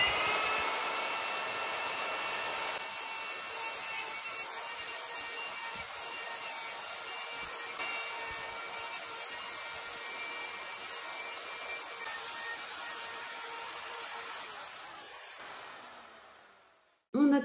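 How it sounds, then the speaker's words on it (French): A power tool cuts a square recess into a wooden board with a steady, loud whirring whine that holds for about sixteen seconds and then stops abruptly. "On a creusé notre carré dans la planche"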